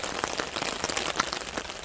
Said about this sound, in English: camping in rain like this